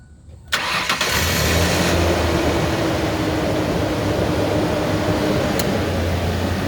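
A 2000 Ford Ranger with the 300 six-cylinder engine cranks briefly and catches, then settles into a steady, loud, close idle that runs on without a break and without talk.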